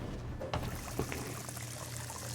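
Water pours steadily while a crime scene is cleaned with a mop in the video game Crime Scene Cleaner, a soft, continuous liquid wash with a couple of faint knocks, fairly quiet throughout.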